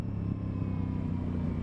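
An Aprilia Tuono 660 motorcycle riding on the road, a steady, dense engine drone with low rumble held at an even level throughout, close and loud, with no speech.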